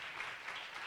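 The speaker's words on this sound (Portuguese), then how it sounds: "Uma salva de palmas ao Jeff," An audience breaks into applause honoring a guest named Jeff at a medical school vocational project event, a dense, steady wash of clapping that fills the brief moment at moderate volume.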